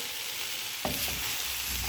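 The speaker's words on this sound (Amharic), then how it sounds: "በደንብ ነው የተጠበሰው።" Food sizzles steadily as it fries in a pan, with a brief stirring clatter partway through and a soft crackle continuing alone.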